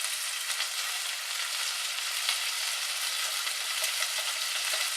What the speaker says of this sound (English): We're going to put our celery and onions in. Ooh, nice and sizzling.